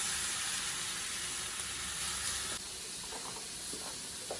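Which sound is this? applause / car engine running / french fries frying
french fries frying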